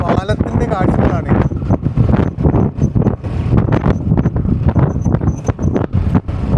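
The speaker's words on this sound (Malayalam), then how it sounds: "നല്ല കാറ്റ്" Strong wind gusts across a bridge near Thodupuzha in Idukki, Kerala, buffeting the microphone with loud, rumbling bursts as voices talk underneath.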